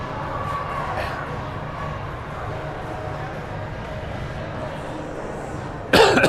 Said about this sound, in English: don't start coughing now